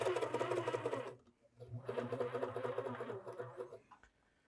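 A vintage Baby Lock overlock serger runs in two bursts of fast, buzzing, rhythmic stitching separated by a short pause, fairly close and alone.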